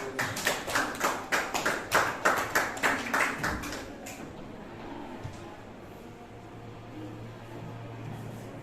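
A short round of applause from an audience after a classroom presentation, a dozen or so crisp, rhythmic claps close by that fade out after about four seconds into quiet room noise.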